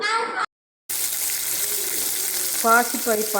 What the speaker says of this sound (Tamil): பச்சை பயிருக்கு வெங்காயம் வதக்கி எண்ணெய் ஊற்றிருக்கிறேங்க